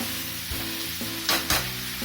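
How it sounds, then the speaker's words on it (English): Mutton sizzles in hot oil over a high flame with a steady frying crackle, punctuated by a few louder stirring scrapes and bursts. "Keep frying the mutton in the oil on a high flame"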